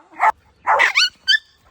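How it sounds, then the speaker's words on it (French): A dog barks and yips three times in quick succession, fairly close and loud, with short pauses between the barks and no talk over them. "T'as vu qu'il y avait un chien?"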